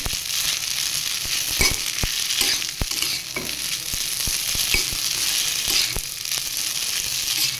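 Sabudana frying with potato and tomato in a pan, a steady bright sizzle running throughout, broken by sharp scraping knocks of a stirring spoon at irregular intervals.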